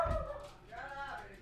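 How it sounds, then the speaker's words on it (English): A dog barks once or twice in the background, fairly faint and brief, followed by a soft yip or whimper. "My dog just barked in the background."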